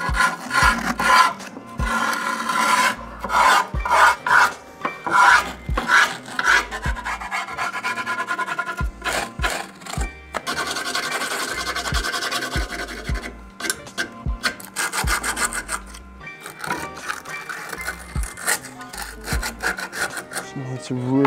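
Metal file rasping along a weld seam on a custom build, working into the crevice in bursts of rapid strokes with short pauses, loud and close, with no talk.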